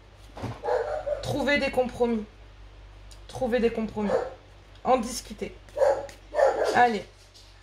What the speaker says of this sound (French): Désolée pour le bruit. Bon, j'ai un chien.